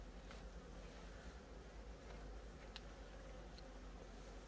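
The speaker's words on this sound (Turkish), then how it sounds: "Bir dakika arılar vuruyor." Faint buzzing of bees around a beekeeper hums steadily at a distance, mixed with light wind noise on the microphone.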